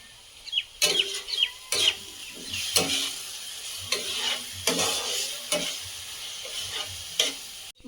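Masala spices frying in oil in a pan for a chicken curry, with intermittent stirring scrapes and bursts of sizzle over a steady low crackle; no voices.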